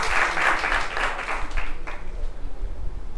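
An audience at an accounting quiz contest applauds a correct answer with a dense wash of clapping that starts full and thins out over about three seconds into scattered claps and room noise.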